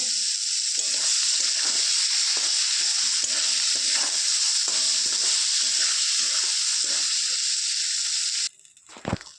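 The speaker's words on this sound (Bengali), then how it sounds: "তেলের মধ্যে ফুলকপিটাও দিয়ে দিয়েছি, এটাও একটুখানি ভেজে নেব।" Cauliflower fries in hot oil with a steady, dense sizzle and repeated stirring scrapes, close and even, before the frying noise cuts off and a short clatter follows at the end.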